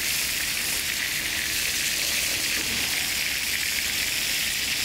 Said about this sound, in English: you hear that sizzling right away